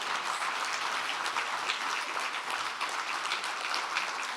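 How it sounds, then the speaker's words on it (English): Steady applause from a breakfast leadership panel audience for the speakers, a dense and continuous patter that is fairly soft and distant, with no talking over it. "Let's give a huge round of applause to our speakers."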